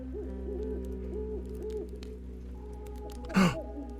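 A game's spooky ambience carries a repeating owl hoot in soft, evenly spaced calls over a low steady drone, then a sudden breathy gasp-like burst near the end.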